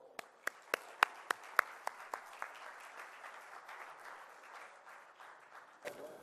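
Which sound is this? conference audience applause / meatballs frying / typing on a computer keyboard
conference audience applause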